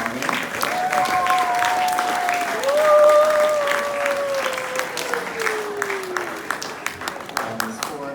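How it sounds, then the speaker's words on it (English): An audience at a school prize-giving applauds the winners, a dense, sustained burst of clapping from a crowded hall, with a faint tonal whine gliding underneath. "let's applaud all of the winners here this morning"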